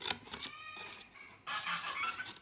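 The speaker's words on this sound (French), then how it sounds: "les oies font du bruit aujourd'hui" Loud goose-like honking and cackling calls in bursts, with a brief lull before a longer, louder stretch of overlapping honks.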